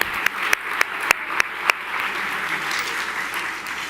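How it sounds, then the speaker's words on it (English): Applause for honorees at a Women of Power awards luncheon: a broad wash of clapping from the room, with a few sharp louder claps near the microphone early on, then an even sustained patter. "Let's give them all another round of applause."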